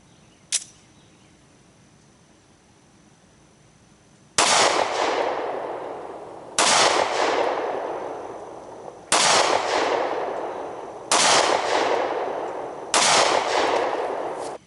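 Remington 9mm pistol firing FMJ ammunition at a range: one faint distant crack, then five loud close shots spaced about two to two and a half seconds apart, each with a decaying ring.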